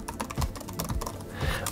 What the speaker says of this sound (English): Keyboard, nice. Some people say it's mushy. I like it. It's not, it's really quite quiet.